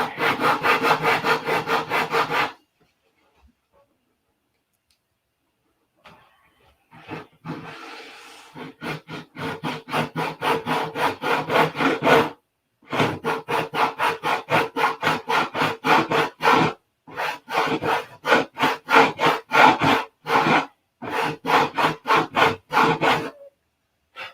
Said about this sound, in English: so we need to sand this straight